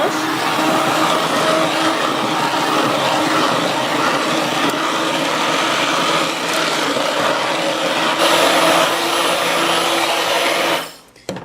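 A blender purees spinach for sarson da saag with a loud, steady whir that holds for about eleven seconds before winding down and stopping.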